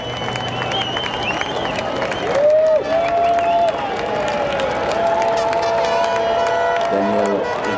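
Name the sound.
crowd cheering at Montreal F1 drivers' parade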